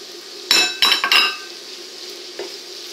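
Tomatoes dropping into a pan of piperade-style vegetables give a quick cluster of clinking, clattering knocks near the mic, followed by a faint sizzle and one soft later tap.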